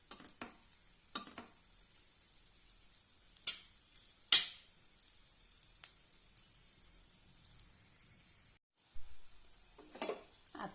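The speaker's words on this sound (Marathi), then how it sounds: "चपाती यामध्ये ठेवूया आणि मस्तपैकी खरपूस अशी आपण आता ही भाजून घेऊया" A leftover chapati roasting until crisp in a pan gives off faint, scattered sizzling crackles and soft pops, quiet and intermittent, with near-silence between bursts.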